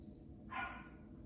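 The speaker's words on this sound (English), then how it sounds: "sorry, my dogs are barking" A single short dog bark sounds faintly in a quiet indoor room, one brief yelp with no talking over it.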